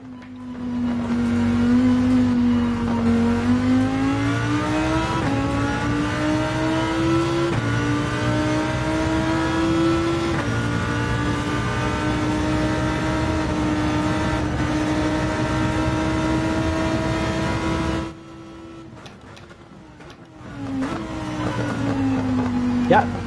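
A Lamborghini race car engine in Gran Turismo 7 on a hot lap, revving loud and close and climbing through the gears with brief drops at shifts, a pause near the end, then rising again.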